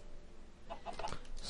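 Blocky Minecraft chickens give a brief run of clucks in the second half, soft and close over a constant low in-game hum, with no voices.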